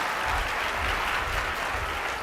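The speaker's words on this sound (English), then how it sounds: "let's give Bob Gridelli one more round of applause" An audience at a business presentation applauds Bob Gridelli, a dense, steady round of clapping from many hands filling the room, sustained without a break.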